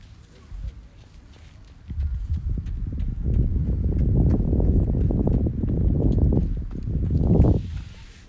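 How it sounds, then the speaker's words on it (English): Footsteps of a jogger on a quiet beach in the morning, a rapid steady crunching thud that swells as the runner passes close by, then fades, with a voice speaking over it. "I can hear a jogger, his footsteps."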